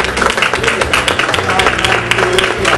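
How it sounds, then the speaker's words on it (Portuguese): Studio applause for television viewers during a city TV channel broadcast, continuous clapping with a low background hum and some voice underneath. "do meu grande Maurício, companheiro, uma salva de palmas para o telespectador do nosso Canal 16"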